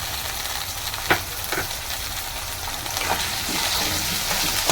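Onion and capsicum frying in a pan for chow mein, giving a continuous close sizzle with occasional clicks and scrapes of a spatula stirring, no voices.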